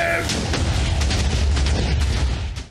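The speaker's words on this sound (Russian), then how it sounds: "я тут все задинамитил. Отлично. Ну чё, давай, на счёт три взрывай." Dynamite detonates in the video game Minecraft, a loud, rumbling blast whose dense roar fills the whole moment before it fades at the end.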